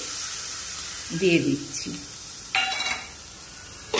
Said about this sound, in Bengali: শুকনো খোলাতে আমি নাড়বো, উইদাউট অয়েল